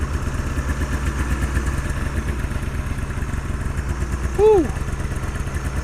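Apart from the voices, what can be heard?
old Ski-Doo snowmobile engine running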